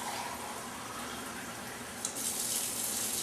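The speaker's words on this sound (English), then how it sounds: "Put some water in your glass." Tap water running into a glass in a kitchen, a steady close hiss and splash that goes on without a break, brightening near the end as the glass fills.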